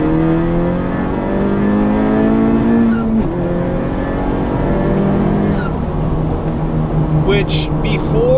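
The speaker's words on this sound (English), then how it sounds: "on hard acceleration, even with the exhaust valve all the way open, I can still hear the induction noise from the intake." A car fitted with a PRL intake under hard acceleration, engine roaring loudly with rising and falling induction and rev tones, gear changes audible, and a voice talking over it.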